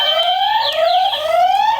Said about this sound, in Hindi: बजर उसने पहले दबाया.